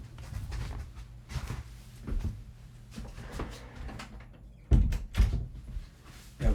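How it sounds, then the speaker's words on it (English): A room door is pushed closed with a few knocks and handling thumps, then two louder bangs as it shuts, close by and without speech. "1 second while I close this door."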